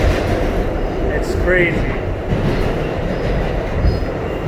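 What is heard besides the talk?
empty MTA 7 subway train riding, wheels squealing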